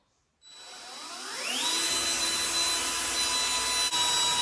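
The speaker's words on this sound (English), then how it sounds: "I've just got to drill those holes and do them all of them" A power drill bores holes in wood during a house renovation. The motor spins up quickly into a loud, steady whine that climbs in pitch and holds, with a brief dip near the end.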